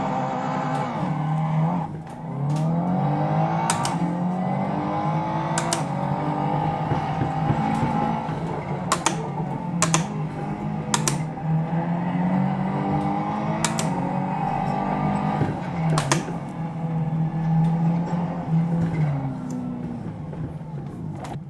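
Sim racing car engine played through the built-in speakers of a BenQ MOBIUZ EX3415R curved monitor on its Trevolo sound preset, a loud continuous drone with rising and falling revs across repeated gear changes, punctuated by sharp shift clicks.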